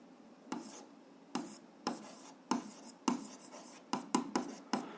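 A pen scratches across paper in short separate strokes, about ten quick scribbles with pauses between, close and quiet, as algebra answers are written out by hand.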